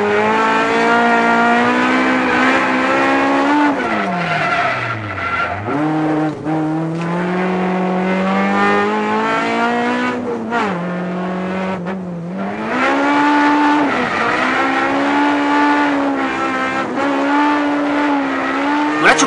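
Onboard a drift car on a track: the engine revs hard and rises and falls through repeated shifts and clutch kicks, with tire squeal and loud continuous engine noise close to the mic.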